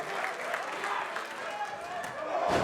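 A wrestling crowd at an NJPW event in Sydney, Australia claps and cheers as a steady wash of applause, swelling slightly toward the end while a commentator talks over it.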